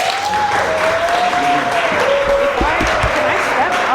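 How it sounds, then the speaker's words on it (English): Sustained applause from an audience at a Black History Month leadership brunch, welcoming a guest speaker; steady dense clapping throughout with a faint voice and thumps underneath. "give a warm welcome and round of applause"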